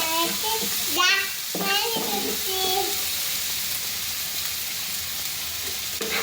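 Onions frying in a pan for rainy-day khichuri, a steady loud sizzle throughout, with someone speaking over it at the start.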